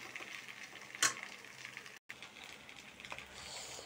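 Vegetable fried rice with black pepper is stirred in a hot pan, soft continuous sizzling with a sharp scrape of the spatula near the start and a brief gap midway.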